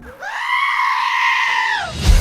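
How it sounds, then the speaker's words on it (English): A goat lets out the famous screaming bleat: a single loud, sustained human-like scream rising and holding strongly for nearly two seconds, ending with a brief rough burst of noise. "all went quiet, and it seemed that we were finally done with the screaming goat"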